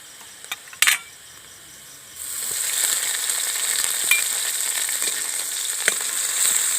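Browned onions with ginger-garlic paste frying in a pan, for aloo dum: a couple of faint knocks, then a loud, steady sizzle swells in and holds, with small pops and scrapes and no talking.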